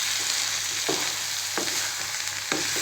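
Mushrooms for sukka fry in oil with roasted ground spice powder, giving a steady, close sizzle with a few soft stirring scrapes spaced about a second apart.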